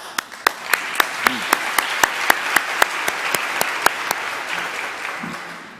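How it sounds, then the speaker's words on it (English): Audience applause fills a gathering where a talk on loving pets is given, a dense steady clapping with one person's louder, evenly spaced claps standing out close by before fading toward the end. "You deserve an applause."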